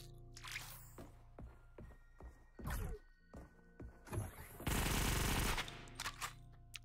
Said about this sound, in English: this Uzi is so powerful